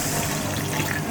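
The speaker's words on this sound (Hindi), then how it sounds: "पानी ऐड करेंगे" Water pours steadily into a cooking pan of beef galawati qeema kabab mixture, a continuous close splashing flow with no talk.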